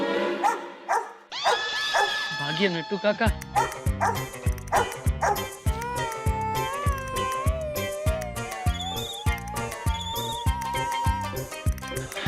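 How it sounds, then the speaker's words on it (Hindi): A dog barks repeatedly in a loud, rhythmic run over busy background music in a Hindi TV comedy scene, with a brief spoken line near the start. "ये कुत्ता तो कितना भौंक रहा है"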